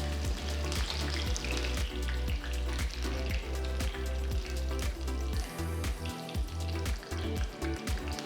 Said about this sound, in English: I'm going to deep fry some of these coriander leaves.